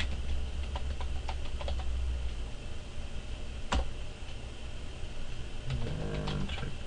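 A password typed on a computer keyboard during Cisco network device setup: quiet, scattered key clicks in short irregular runs over a constant hiss, with a brief burst of quick taps near the end.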